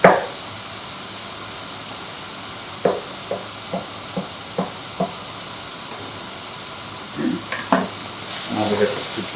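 Zucchini sizzles softly in a pan for minestrone, with a steady frying hiss and a run of light, evenly spaced knocks as it is stirred, ending in a few quicker scrapes.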